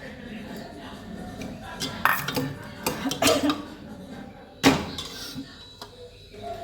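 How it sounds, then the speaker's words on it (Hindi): A pressure cooker is set down among pots and pans in a home kitchen, with metallic clanks and clinks in a few sharp bursts, close by, amid light kitchen clatter. "ये रख दिया मैंने अपना कुकर"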